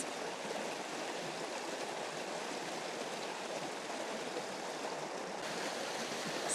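Flowing stream in Norway, a steady close rush of running water, even and continuous throughout.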